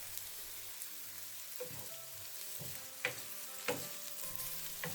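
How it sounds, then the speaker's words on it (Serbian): Onions sautéing over high heat in a frying pan, a steady low sizzle with occasional louder crackles and pops, no voices. "dinstamo luk nekoliko minuta na jačoj temperaturi dok ne porumeni"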